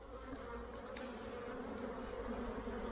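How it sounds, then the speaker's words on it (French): Honeybees buzz in front of beehives on an early afternoon, a steady and fairly loud drone with a single bee briefly passing close by. "il y a une augmentation de l'activité et il y a des bourdonnements assez fort si on est à côté"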